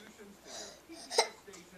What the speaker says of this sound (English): That's what a hiccup is.